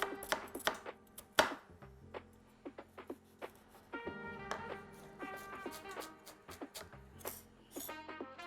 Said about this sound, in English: I'm gonna do nice fine dices of shallots